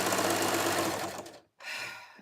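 A sewing machine stitches a fabric jelly roll rag rug, running loud and steady for over a second, briefly stopping, then whirring again alone without any talk.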